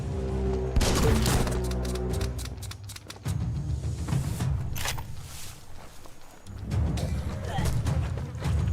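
Gunfire in the video game Biomutant, with repeated sharp shots and bursts cracking over a dense layer of game effects, impacts and footsteps, loud and close throughout.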